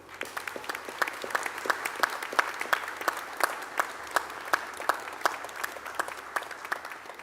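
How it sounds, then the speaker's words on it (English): A crowd of family and friends applauds graduates at a James Cook University graduation ceremony in Cairns, a steady, dense wash of clapping sustained throughout with distinct sharp claps standing out, moderately loud and without speech. "join me in a vigorous round of"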